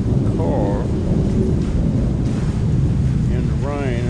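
Steady rain outdoors with a low rumbling wash and wind buffeting the microphone, while someone speaks intermittently over it.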